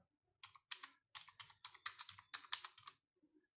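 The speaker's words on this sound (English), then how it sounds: "type your PAN number and type your Aadhaar number" Fingers tap out PAN and Aadhaar numbers on a computer keyboard: a quiet, close run of irregular key clicks in quick bursts with short pauses, ending in a few soft final taps.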